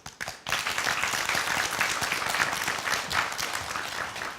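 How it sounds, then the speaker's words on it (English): Audience applause at a Survival Contenders episode, a steady, dense round of clapping that starts after a brief pause and fills the rest of the moment evenly and fairly close. "So next, give a big round of applause for our bucket list."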